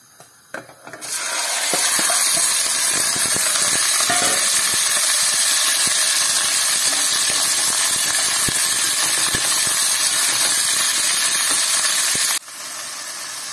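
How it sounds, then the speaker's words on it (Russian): Loud, dense sizzling hiss of meat frying in a few spoonfuls of vegetable oil in a kazan starts abruptly and roars steadily, with crackles and scraping throughout. "Мясо я пожарила."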